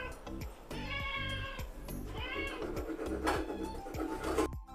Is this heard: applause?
no